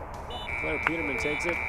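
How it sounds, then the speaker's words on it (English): A long, steady electronic buzzer tone sounds at a girls' high school soccer game, running loud and continuous through most of the moment while a commentator keeps talking over it. "that is the sound of the buzzer"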